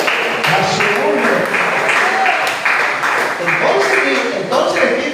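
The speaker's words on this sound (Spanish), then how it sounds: "Démosle un aplauso, démosle gloria" A church congregation claps and cheers loudly and steadily during a Bible study, with voices calling out over the applause.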